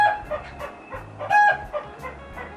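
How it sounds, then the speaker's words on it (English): A laying hen cackles loudly in a repeated, insistent rhythm, several sharp bursts of clucking standing out, close by and without talk. "Case in point, one of my chickens laying an egg."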